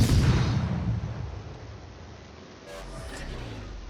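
Naval guns on a warship in the game Kamikaze R boom heavily, a loud low blast at the start decaying into a rumbling tail, with a smaller follow-up report near the end.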